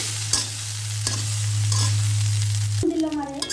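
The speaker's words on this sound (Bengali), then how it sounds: "এই যে আমি গরম ভাত দিয়ে দিচ্ছি কটা আমি ডিমের সাথে মিশিয়ে নেই" Hot cooked rice being fried together with egg in a pan, giving a steady sizzle with sharp stirring scrapes over a constant low hum, then a brighter clatter near the end.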